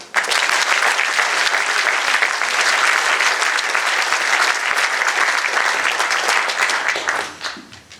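Audience at a French political meeting before the first round applauding, loud, dense and sustained clapping for about seven seconds before quickly dying away.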